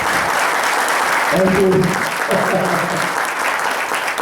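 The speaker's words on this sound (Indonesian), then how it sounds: "saya minta tepuk tangan Malang, teman-teman Malang yang paling tulus" An audience of friends in Malang applauds, a steady and dense clapping that lasts the whole stretch, with a short spoken thanks heard over it.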